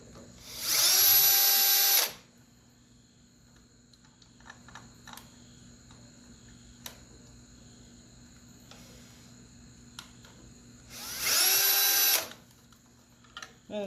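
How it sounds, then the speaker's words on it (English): Power drill boring holes to mount LED trailer lights, heard as two loud sustained whirring bursts about ten seconds apart, with quiet handling noises between them. "Finish drilling."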